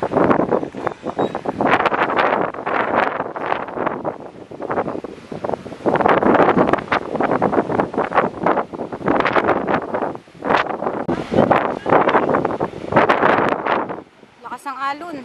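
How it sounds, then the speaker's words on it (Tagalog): Strong coastal wind at Cape D'Aguilar, Hong Kong, buffeting the microphone in loud, roaring gusts that come and go in waves, with a person talking intermittently under the blasts. "i-mute muna natin ang sound dahil sobrang lakas ng hangin"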